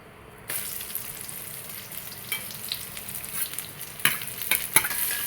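Shallots and green chillies sauté in a pan for a mutton dish, a steady oily sizzle broken by scraping stirs of a spoon that grow more frequent and sharper toward the end.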